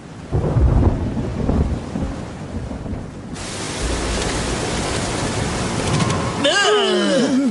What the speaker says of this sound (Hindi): लगता है बहुत भयंकर तूफान आने वाला है।